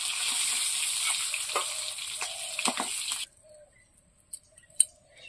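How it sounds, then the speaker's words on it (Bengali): Elephant foot yam fritters fry in oil left from frying fish, a bright close sizzle for about three seconds that stops abruptly, followed by near silence with a few faint clinks. "এবার ওলের বড়াগুলো ভেজে নেব।"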